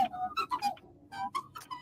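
R2-D2's evil twin droid from The Clone Wars chirps a quick run of warbling, whistly electronic beeps, close and clear, in two short bursts separated by a brief pause.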